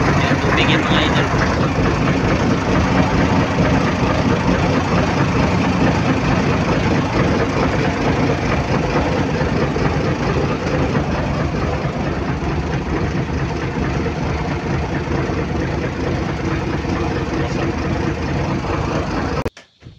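Engine suffering heavy blow-by, idling loudly and continuously with an irregular, galloping rhythm that stays close and unbroken for about twenty seconds.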